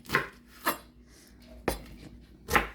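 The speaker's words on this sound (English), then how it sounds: "all we're gonna do with these Brussels sprouts is half them. But we're gonna cut the tips off and then half them" A knife chops through Brussels sprouts on a cutting board, trimming the tips and halving them: four sharp, separate cuts spaced irregularly, close and fairly crisp, with a faint hum in between and no talking.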